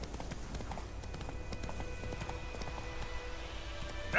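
In The Witcher 3, the horse Roach gallops with steady rhythmic hoofbeats, faint and under a bed of game music and ambience, with a voice speaking briefly.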